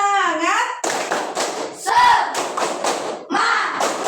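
A primary school class stands and performs a rhythmic clapping chant called tepuk semangat. Groups of sharp, close claps and thumps alternate with children's voices chanting in unison.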